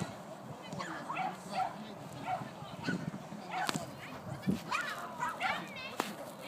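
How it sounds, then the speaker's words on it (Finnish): A dog loose at a race start area barks and yips repeatedly in short bursts, mid-distance, under steady outdoor crowd noise and nearby voices talking. "Ja täällä on koira nyt tällä hetkellä irti täällä lähtöalueella."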